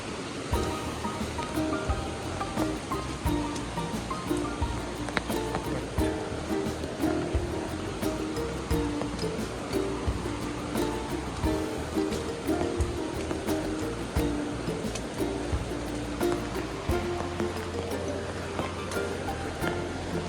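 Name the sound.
large river flowing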